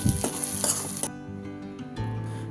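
Turmeric and chili powder being stirred into egg fried rice in a hot pan, giving a close sizzle with quick scraping strokes that quiets and thins partway through.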